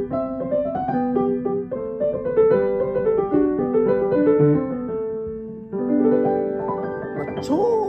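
Soft, mellow notes flow in a steady melodic line from a black Kawai US50 upright piano, played alone with a deep, warm low register and a brief swell of chords near the end.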